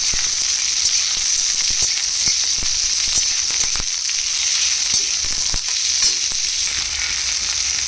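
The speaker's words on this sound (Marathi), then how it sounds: "मिरची झाल्यानंतर ना कढीपत्त्याची पानं चिरलेला कांदा हे सगळं आपल्याला व्यवस्थित परतून घ्यायचं आहे" Green chillies, curry leaves and chopped onion frying in hot oil give a loud, steady hiss and crackle, broken by irregular pops and the scrape of a stirring spoon, with no talking.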